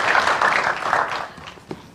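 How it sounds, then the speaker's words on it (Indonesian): Applause from a studio audience for Mbak Ani at a televised talk show, a dense patter of many hands clapping that starts strong and thins out over two seconds, with no one speaking over it. "Kita boleh tepuk tangan sekali lagi untuk Mbak Ani."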